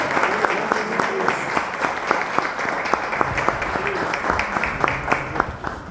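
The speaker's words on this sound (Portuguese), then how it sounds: "Vamos receber o missionário com palmas para Jesus." A church congregation claps together during a Santa Ceia service in Poços de Caldas, steady dense applause with sharp rhythmic claps standing out, and a voice speaking over it partway through.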